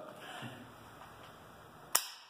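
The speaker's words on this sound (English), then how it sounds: "click, you're empty" A single sharp, close metallic click from an AK47/74-pattern rifle as the trigger drops on an empty chamber, heard alone near the end with only faint room noise before it.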